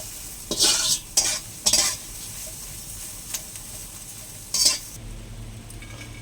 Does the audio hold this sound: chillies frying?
yes